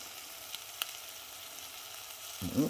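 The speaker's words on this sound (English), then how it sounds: "Give it a good old squirt of tomato puree as well." Tomato puree squirted into a hot pan while making a chicken and tomato risotto, a faint steady sizzle hissing throughout before a brief, louder splutter near the end.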